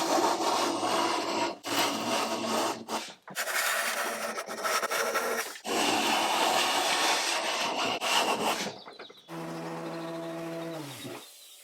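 Oak veneer being pulled and scraped off solid oak furniture, loud close rasping and tearing strokes in long bursts with short pauses, ending in a lower groaning creak.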